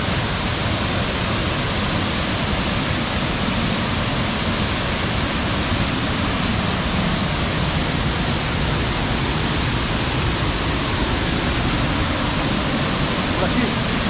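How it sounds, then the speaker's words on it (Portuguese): Waterfall along a jungle trail at Presidente Figueiredo, a steady roaring broadband rush of falling water that fills the whole scene, loud and constant throughout. "Vamos entrar debaixo da cachoeira."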